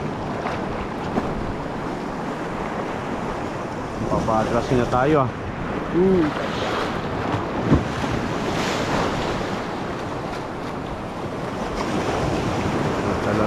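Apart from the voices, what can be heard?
sea waves at sea while fishing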